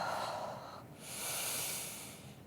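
Slow, deep breathing during a yoga session: a soft, breathy inhale followed by a longer airy exhale, close and quiet with no talking over it.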